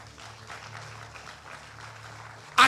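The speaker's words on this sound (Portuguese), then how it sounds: "Aplauda Ele, igreja." A church congregation applauds in a soft, diffuse wash of clapping under a low hum, ending with a sudden loud burst at the close.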